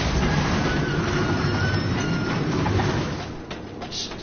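A train rumbles along in the Darksiders video game, a loud continuous rolling roar with faint wheel squeal that eases off toward the end.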